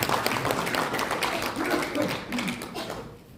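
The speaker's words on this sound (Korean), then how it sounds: "우리 박수로 받겠습니다" An audience at an Incheon Christian citizens' forum and press conference claps to welcome a speaker: dense, sustained applause that tapers off toward the end, with some voices mixed in.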